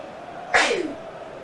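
A single sharp sneeze, close and abrupt, bursting out over faint background during a football match commentary, then fading quickly.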